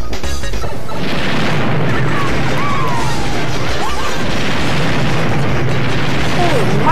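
Bomb explosions in the video game Mario Kart Wii during an online race, a dense continuous roar of booming blasts and crashes, loud and sustained throughout.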